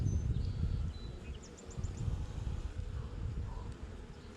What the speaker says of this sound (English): a lot of bees on this frame